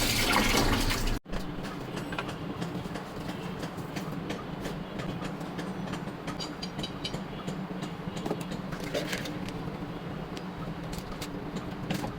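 Vegetables and fish being washed with water, cut potato, stems and bitter gourd alongside gulsha fish, with steady running and splashing water and rattling handling throughout, no talk.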